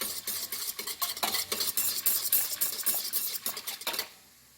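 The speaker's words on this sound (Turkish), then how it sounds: "Bunu iyice bir karıştırıyoruz" Yogurt and mineral soda batter is stirred briskly in a bowl, close and moderately quiet, with a quick rhythmic swishing and faint scraping that stops abruptly near the end; no voices.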